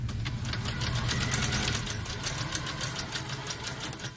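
Sewing machine stitching binding onto a knit neckline, a steady fast mechanical whir with rapid needle clatter running continuously and fairly close, with no talking.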